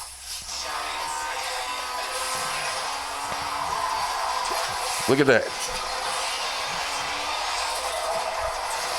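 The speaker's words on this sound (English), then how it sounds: "Now I got Asphalt 9 queued up on the phone." Asphalt 9 racing game audio playing from a phone cast to an Aurzen Zip tri-fold portable projector's built-in speaker: a steady roaring engine-like rush with a brief whooshing burst midway, and a voice speaks briefly.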